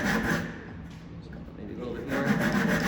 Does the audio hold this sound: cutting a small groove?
yes